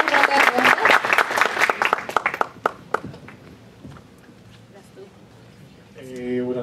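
An audience at a Startup Grind talk claps loudly for about two seconds, the applause thinning into scattered claps that fade, then a voice begins speaking.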